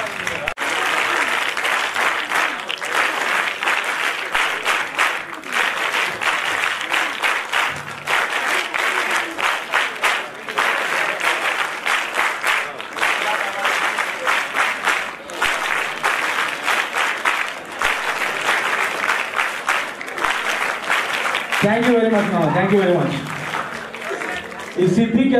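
Students at a snake show event clapping steadily for the speaker, a long, dense stretch of applause, with a voice speaking near the end as the clapping continues.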